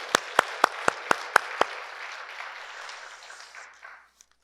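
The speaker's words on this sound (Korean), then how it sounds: "우리 지휘자와 아래 시원 찬양대를 위해서 뜨거운 박수로 격려 한번 합시다." Church congregation applauding the choir and conductor during a Sunday worship service: a few sharp separate claps open into a dense wash of crowd applause in a reverberant sanctuary that thins and fades out over several seconds.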